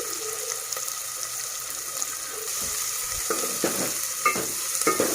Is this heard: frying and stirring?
yes